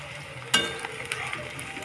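Shechi greens pakoras frying in hot oil as they are flipped, a steady soft sizzle with a sharp burst of crackle as the batter turns, then settling back to a low bubbling hiss.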